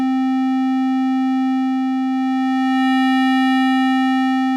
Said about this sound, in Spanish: introduce un poco de distorsión de la onda aquí abajo